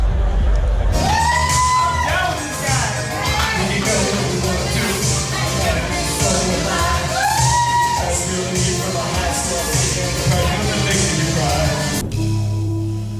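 A large festival crowd at a performance at Coachella roars and cheers continuously, with whoops, shouts and nearby voices over loud, distant-sounding music.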